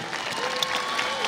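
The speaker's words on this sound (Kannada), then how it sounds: "ಜೋರಾದ ಚಪ್ಪಾಳೆಯೊಂದಿಗೆ" Audience applause at a government sports awards function, a short burst of steady clapping from a crowd with a faint voice underneath.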